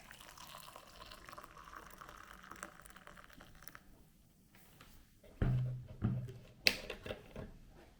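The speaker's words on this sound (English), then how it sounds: "adding the water" Water poured into a large cup holding spoonfuls of coffee and a little sugar, a short burst of splashing filling near the end after quiet kitchen background.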